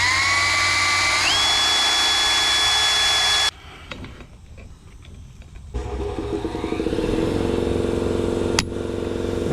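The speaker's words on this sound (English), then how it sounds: "I'm gonna try to drill a hole into this snap ring" A power drill boring into a steel snap ring on a barn-find Kubota C30, with a loud steady whine that changes pitch, a brief quieter pause, then renewed grinding and whirring up close.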